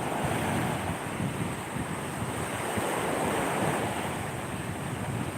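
Sea waves wash continuously onto the shore, a steady broadband surf roar with wind buffeting the microphone, with no one speaking.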